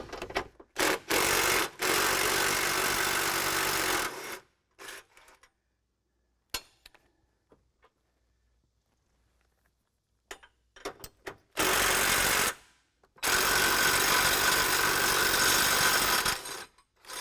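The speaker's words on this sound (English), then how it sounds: "Use an impact." A Jeep JL front bumper's bolts come off under an impact wrench, with loud, rattling bursts of hammering, the first ones short and choppy, then long steady runs, separated by quiet gaps.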